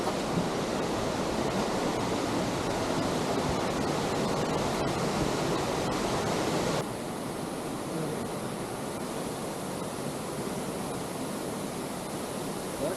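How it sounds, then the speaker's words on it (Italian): Waterfall inside a cave, a dense continuous roar of rushing water filling the space, loud and steady, dropping slightly in level partway through, with no talk. "Guarda che bella cascata."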